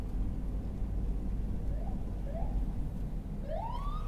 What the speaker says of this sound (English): Los Angeles Fire Department ambulance.